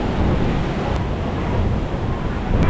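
Sea waves at a beach in Mui Ne, Vietnam, a steady broadband wash of surf close to the microphone, with wind rumbling continuously throughout and no voices.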